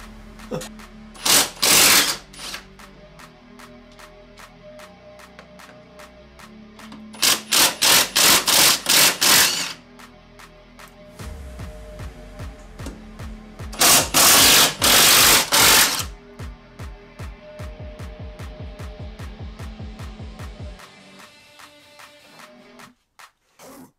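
Impact wrench removing bolts from the brakes of an NB MX5 Miata, firing in three loud rattling bursts separated by pauses, with trailing clicks and workshop clatter between them.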